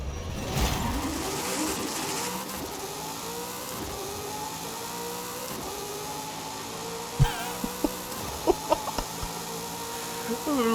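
A record-breaking drag car in Forza Horizon 5, run with manual clutch and launch control off, roars loudly with rising revs, followed by a few sharp pops and bangs near the end.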